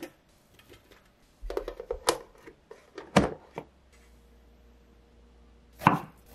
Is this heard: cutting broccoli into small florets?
yes